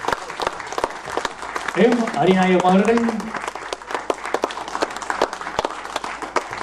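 An audience at an award ceremony during an Indian dance and arts event claps in steady scattered applause, while someone speaks over it through the middle.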